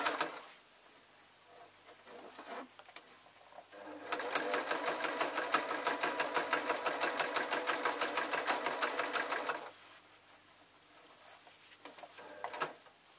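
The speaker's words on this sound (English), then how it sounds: "so I'm just quite happily sewing up to where the petals start." A sewing machine stitches binding onto an art quilt, running in one steady rhythmic burst of rapid needle strokes for about five seconds, with quiet handling noise before and after.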